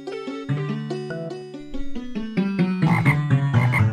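Game audio from the PC adventure Mixed Up Fairy Tales with a frog croaking amid a bright, tonal melody of stepped notes, fairly loud and steady, with no voices over it.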